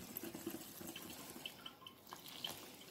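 Water is added little by little to taro fritter batter, a faint, soft trickling and splashing with small drips, quiet and close, with no talking.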